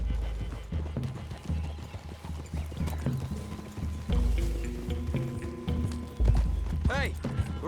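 Hooves clip-clop in a steady walking rhythm close by in the video game Red Dead Redemption 2, with a horse snorting and whinnying amid soft rustling and gear sounds.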